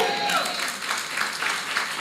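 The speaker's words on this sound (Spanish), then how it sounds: "Vamos, aplauda fuerte" Church congregation applauding during a Spanish-language sermon, a steady wash of clapping that holds fairly even across the moment.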